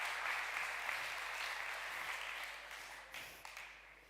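An audience applauds at a Solar Decathlon peer review event, a steady wash of clapping that slowly thins and tapers toward the end with a few louder claps.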